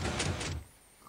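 An auto-closing door in Minecraft swings shut with a short burst of two quick clacks, followed by near silence and a faint tone.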